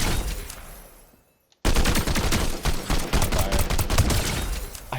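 Automatic gun in a video game fires in one sustained, loud close-range burst of rapid shots after a brief quiet gap.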